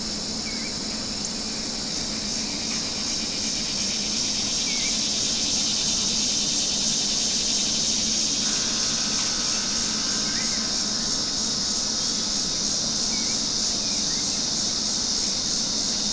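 A steady, high-pitched drone of cicadas fills the background without a break, constant and fairly far off, with no voices over it.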